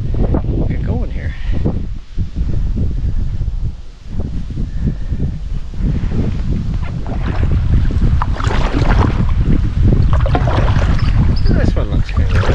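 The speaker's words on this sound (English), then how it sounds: "The wind out there is picking up pretty good." Wind blows steadily across a lake on a solo canoe trip, a broad rushing roar that stays loud throughout, mixed with buffeting against the microphone and occasional rustling.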